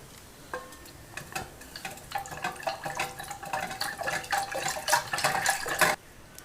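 Water splashes and pours into a bowl of curd in uneven gurgling bursts, with faint clinks, ending abruptly.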